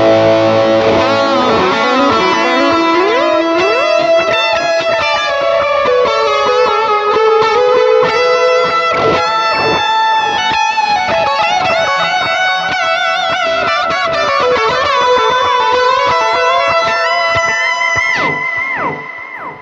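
Electric guitar played through a worship-style preset with reverb on a Hotone Ampero II Stomp, loud chiming chords and melodic lines with long washing tails, continuous and upfront, no talking.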